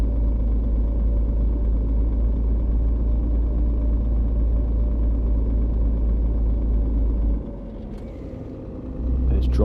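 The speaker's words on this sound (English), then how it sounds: "Can really hear the engine now" A car engine in a driving game strains up a hill, a loud steady low rumble that drops abruptly near the end as the gear changes, then builds back up.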